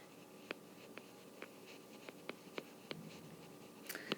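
A pencil writing on paper while working a factoring-by-grouping algebra problem, producing a faint series of short scratchy taps and strokes at a roughly regular pace, quiet and close with no talking.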